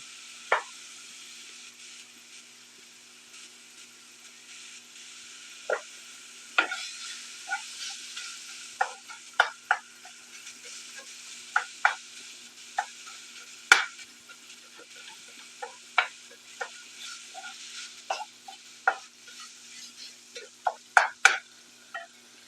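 Sausage sizzles quietly in a pan as a spoon stirs it, giving sharp scrapes and taps at irregular intervals over a faint, steady frying hiss.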